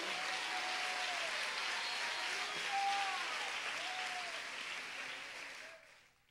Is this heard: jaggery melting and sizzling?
no